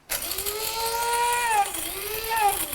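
A hand grinder grinds spices with a continuous ratcheting, whirring mechanical sound whose pitch rises and dips as the handle turns, close and fairly loud.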